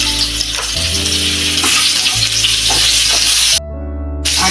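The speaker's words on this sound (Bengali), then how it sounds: "আলুগুলো একটু ভাজা ভাজা হয়ে এলে আমি এর মধ্যে দিয়ে দেবো কেটে রাখা পেঁপের টুকরো" Potatoes and papaya pieces frying in oil for a Bengali shukto, a loud continuous sizzle with occasional stirring scrapes and a brief dip near the end.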